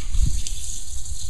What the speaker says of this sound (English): I'm gonna add a little water to this too